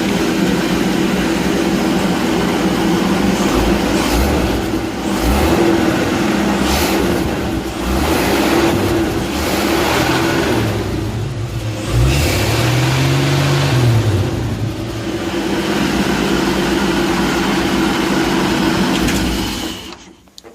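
A Boyertown Stepvan engine idles steadily after a tune-up with custom-length spark plugs, a continuous close mechanical drone that swells briefly in pitch partway through and holds, with no talking.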